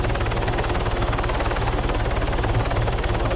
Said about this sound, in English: there's a chopper to your left